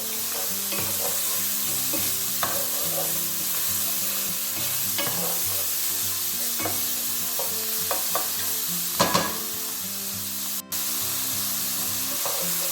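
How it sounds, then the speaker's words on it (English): Italian sausages fry in a pan with lamb, giving a continuous close sizzle broken by repeated scraping stirs and a few louder clatters of the utensil against the pan. "we're going to add the Italian sausages. Try and get a little bit of colour on them as well."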